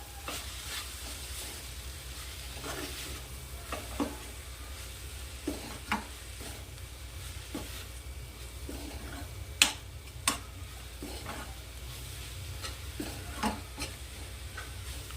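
A spatula scrapes and taps against a pan as roasted peanuts are mixed into a dry-cooked ambadi leaf stir-fry, a quiet and steady sizzle running underneath scattered soft knocks.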